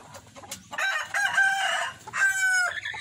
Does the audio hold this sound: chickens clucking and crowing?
yes